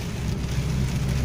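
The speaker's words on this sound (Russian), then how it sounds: "дождь очень сильный" Very heavy rain drums steadily on a car, heard from inside as a dense, continuous wash of patter with a low rumble underneath and no talking.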